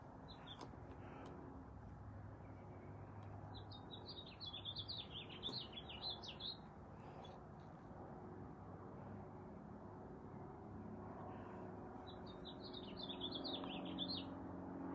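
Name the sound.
birds chirping outdoors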